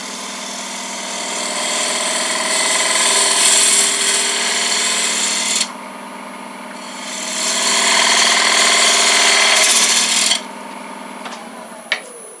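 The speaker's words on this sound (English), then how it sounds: "I'm going to switch to this little C gouge." Lathe turning a wooden platter, the small C gouge scraping and hissing steadily in two long close passes with a brief quieter lull between, a faint click near the end.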